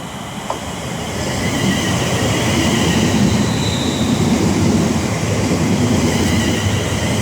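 A Class 350 electric train rumbles into Milton Keynes Central station steadily, with rail noise and a faint wheel squeal rising as it draws close.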